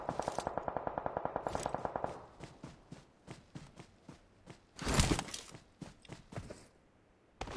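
Rapid automatic gunfire from a shooter video game, a fast burst of evenly spaced shots at the start, followed by scattered single shots and a louder blast midway, with no talking.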